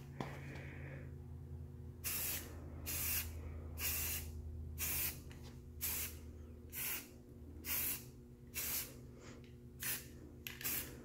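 Primer sprayed from a can onto mini bike rims in about ten short, evenly spaced hissing bursts with brief pauses between, close and fairly quiet, over a low steady hum.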